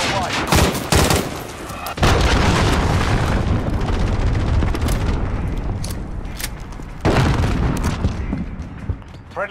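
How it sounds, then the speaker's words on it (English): Cruise missile strikes in the game Modern Warfare: loud booming explosions and rumbling blasts roll on almost continuously, with sharp gunfire bursts mixed in and a brief drop near the start. "Allied cruise missile away."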